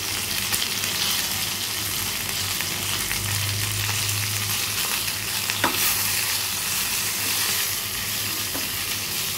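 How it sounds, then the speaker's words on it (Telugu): Garlic cloves frying in a pan for moringa leaf chutney give a continuous close sizzle and crackle, with stirring scrapes and a brief sharp tap midway, and no voices. "ఇలాగ వెల్లుల్లి వేద్దాం. ఫ్రై అవుతుంది."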